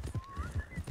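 Horse hooves while riding in Red Dead Redemption 2, a quick, even gallop of close, heavy footfalls with a brief neigh-like tone over them.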